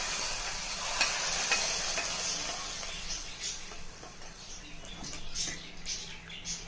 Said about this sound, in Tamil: இதை அப்படியே தாளிச்சத்தை சாம்பார் கூட சேர்க்கணும்